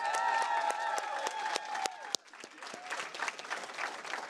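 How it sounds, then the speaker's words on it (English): Sustained applause from a crowd at a Democratic midterm election watch party, dense clapping with a few cheers, steady and fairly loud before thinning slightly. "Let's give our team a great round of applause."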